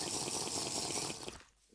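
Water being scooped up in the Terrafirmacraft Minecraft mod, a short steady gush of running liquid lasting over a second before cutting off abruptly into near silence.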